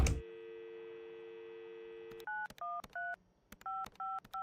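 A telephone dialed in a farmhouse scene of a video game: a steady dial tone, then a quick series of clear two-tone keypad beeps in short separate bursts, close and with no talk.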